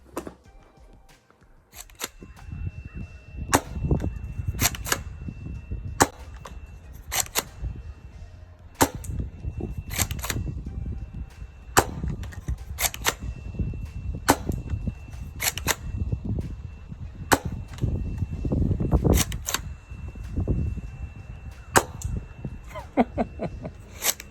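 Foam darts fired from an XS908 Raptor Power Launcher toy blaster, some striking a tree outdoors: a long series of sharp, close snapping shots spaced at irregular intervals over a low background rumble.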